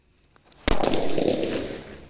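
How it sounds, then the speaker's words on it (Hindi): A mini bolt bomb firecracker, a Diwali cracker, goes off in one sharp, loud bang after a few faint ticks, followed by a crackling rumble that fades away. "तो भाई ये आपने देखा मिनी बोल्ट बम कैसा चला"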